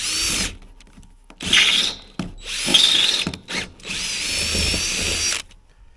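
A power drill with a 7/32-inch bit whirs in several short bursts through wood on a pickup flat deck, revving up and cutting off with brief pauses between, its motor whine close and loud.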